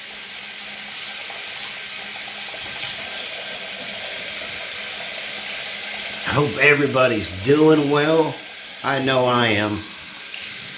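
Hot water runs steadily from a bathroom tap into a sink before a shave, a constant hiss and splash throughout, with someone talking briefly over it near the end.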